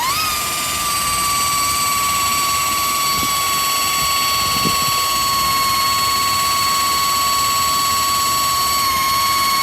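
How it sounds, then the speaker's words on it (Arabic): An electric metal polishing machine with a wool pad runs at its lowest speed, giving a loud, steady motor whine with a constant high tone and a few faint rubbing scrapes underneath, no talk. "والآن بنشغل الماكينة على سرعة 1"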